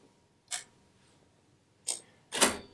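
A C1 needle is removed from a serger sewing machine to switch from cover stitch back to chain stitch, giving three short, quiet mechanical clicks and creaks, the last one loudest, close by with quiet gaps between.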